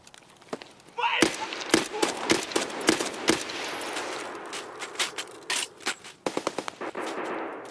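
Bursts of automatic gunfire in the video game Escape From Tarkov, rapid close volleys and single sharp shots scattered across the stretch, with a player's voice talking over parts of it.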